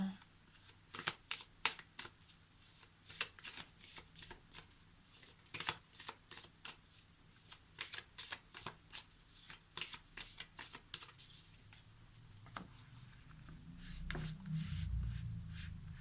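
Oracle cards shuffled by hand in quick repeated riffles, a long run of crisp papery bursts close to the mic, easing into a softer rustle and low rumble at the end.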